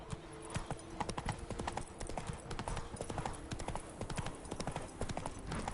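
Roach, a horse in The Witcher 3: Blood and Wine, clip-clops along in a steady, continuous trot of hoof beats, with game ambience beneath and no talk.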